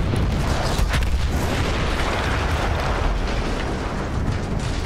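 Dynamite explosion in Battlefield 1, a dense rumbling roar with crackling debris that holds loud and sustained, no voices.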